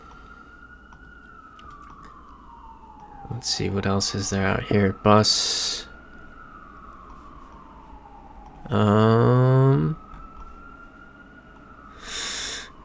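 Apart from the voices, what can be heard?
emergency vehicle sirens outside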